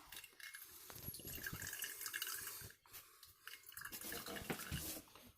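Oil draining from a Harvest Right freeze dryer vacuum pump into a jar, a faint stream of soft drips and trickles with a few brief clicks and handling noises.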